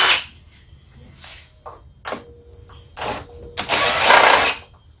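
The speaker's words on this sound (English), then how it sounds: "I'm going to use an impact" An impact driver removes the screws holding a mower's pull-start assembly, giving several short, loud, separate buzzing bursts that end in a longer rattling hammer of the tool.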